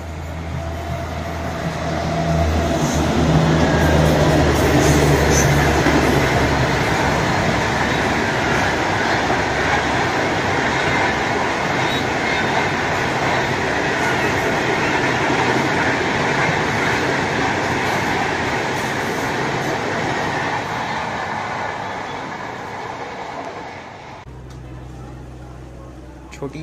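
A train on the Mumbai–Vadodara rail section races past at high speed with a sustained roaring, rattling rush of wheels and wagons that holds loud for about twenty seconds before cutting off sharply near the end.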